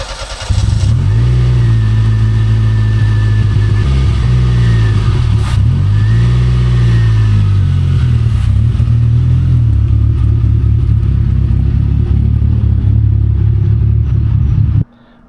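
A Chevrolet Beretta Z26 with its Quad 4 engine, just soaked down under the hood, starts up and runs loud and close, a steady rumbling idle with slight rev swells that holds until it shuts off.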